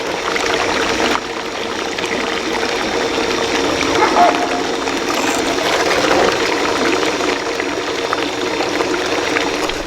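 Water rushes steadily through a Gold Hog multisluice stripper mat as gold concentrates are washed across it, a continuous close splashing flow with no pauses.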